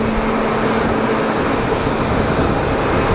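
An Airbus A320neo jet at Geneva Airport gives off a steady, dense engine roar, loud and unbroken for the whole stretch.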